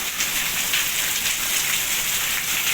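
Heavy rain falls in the mountains around Dharamshala and Yol village, a dense, steady hiss of drops striking surfaces with no pauses.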